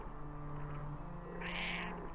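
Domestic cat giving one clear meow in a quiet indoor room, a short, moderately loud call rising partway through over low steady background hum.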